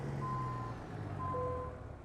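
A truck backing up in American Truck Simulator, with two or three steady electronic reversing beeps sounding at an even pace over a low idling engine rumble.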